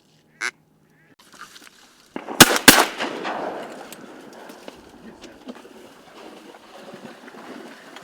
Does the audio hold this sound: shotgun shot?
yes